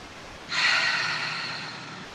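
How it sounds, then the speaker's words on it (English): A single deep breath taken during a Pilates mat exercise, a soft airy rush that swells quickly and then slowly fades, close and alone. "Start to take a couple of deep breaths here."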